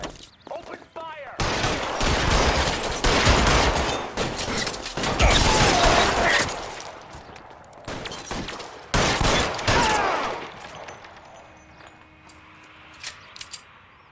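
Shootout in a video game with bursts of rapid gunfire, loud and dense, broken by short pauses, with voices shouting in between and sparser shots trailing off toward the end.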